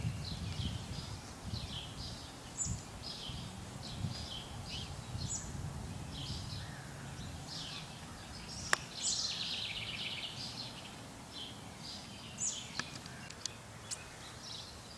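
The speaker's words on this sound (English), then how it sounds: "I've been hearing a lot of birds out in the yard today" Birds chirp and sing in a backyard just after a rainstorm, with a robin among them; short repeated calls sound from the middle distance over a steady low rumble of background noise.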